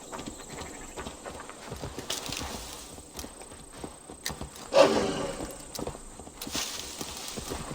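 Horse hooves clip-clop at a steady walking pace in Assassin's Creed Valhalla, a moderate rhythmic patter of hoofbeats with one louder thump midway, set among game ambience and faint background sounds.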